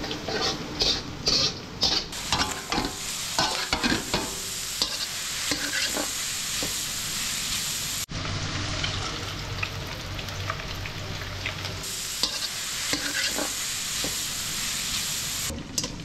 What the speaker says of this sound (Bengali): তো এইদিকে আমাদের এই যে রাইস রান্না চলতেছে আর ওই পাশে চিকেন।